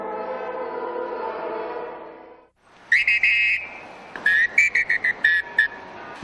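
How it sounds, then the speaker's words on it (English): A traffic officer near a cathedral in Mexico City blows a police whistle in a series of sharp, shrill blasts, one long and then several short bursts, loud and close, following a steady hum of traffic noise. "He seems to play several different sounds on his whistle, presumably in an effort to control traffic near the cathedral"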